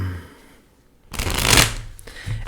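Tarot cards being shuffled up close: a quiet pause, then a rushing riffle of card edges building for about a second and ending in a brief tap as the deck settles.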